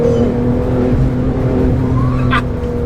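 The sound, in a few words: Porsche GT2 RS engine turbo spooling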